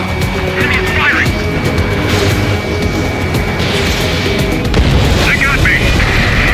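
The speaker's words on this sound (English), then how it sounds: "Enemy is firing!" Enemy fighter aircraft firing in the Ace Combat 7: Skies Unknown flight game: a continuous roar of jet engines and booming fire fills the scene, with bursts of rapid shots and sustained rumbling throughout, loud and close.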